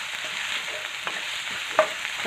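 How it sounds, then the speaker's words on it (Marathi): Onion sautéing in an iron kadhai for egg bhurji, a steady broadband sizzle with soft scraping stirs and one sharper clink near the end, close and alone. "कांदा आपल्याला छान असा परतून घ्यायचा आहे"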